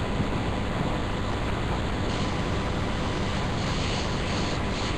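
An airbrush spray gun hisses steadily as it lays jet black paint onto a t-shirt, a continuous broadband rush that stays close and even throughout, with no voices.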